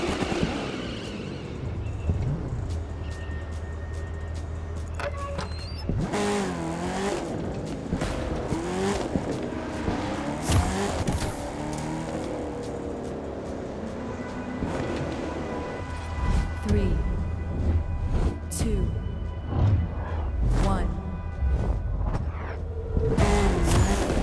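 Monster trucks race in The Crew 2 video game, with engines revving and droning, tires squealing and bursts of crashing and scraping that swell and fade across the race.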